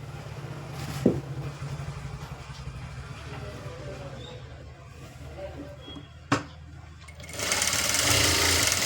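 Sewing machine running in short bursts while stitching the side seam of a lined blouse, a rapid mechanical whirr with a few sharp clicks and a louder rush near the end.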